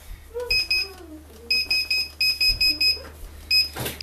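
A kitchen timer beeps in short, bright pairs and triplets while someone bakes a blueberry cream cheese Danish; the beeps repeat in a steady rhythm over faint background noise, and a voice speaks briefly near the start.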